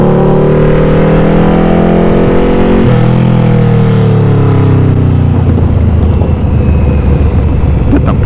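A Yamaha Vmax cruiser motorcycle engine revs loud and close, pitch climbing and dropping through gear changes, with crackling pops from the exhaust as the throttle comes off near the end.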